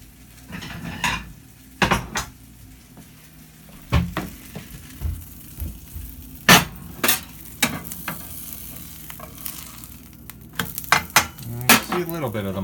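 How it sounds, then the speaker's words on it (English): A tortilla quesadilla with melting cheese sizzles in a pan, a low steady hiss under frequent sharp clinks and scrapes of a utensil against the pan, without speech. "So you hear a little bit of the cheese melting."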